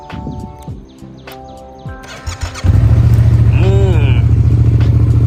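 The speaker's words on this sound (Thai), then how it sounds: "เดี๋ยวเรามาฟังเสียงเครื่องยนต์กันดู" A 2015 Yamaha MT-07 motorcycle with about 20,000 km starts up partway through and settles into a loud, steady idle, following someone speaking.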